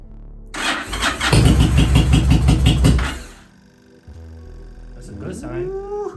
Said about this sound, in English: we're gonna try to start the bike